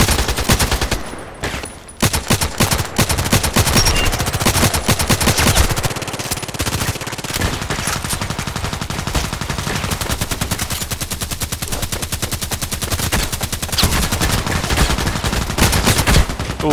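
Rapid automatic gunfire rattles almost without pause in the online shooter Contract Wars, dense loud bursts with a brief gap near the start before the shooting resumes.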